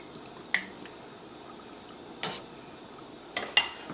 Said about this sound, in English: I'm going to give that a wicked stir.